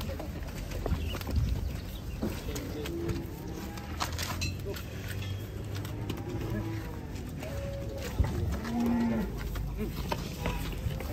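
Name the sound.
cows mooing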